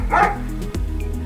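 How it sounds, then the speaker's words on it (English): A dog bark played through a Google Home smart speaker: one bark, then a short softer whine or yip, slightly electronic and close by. "This is a dog."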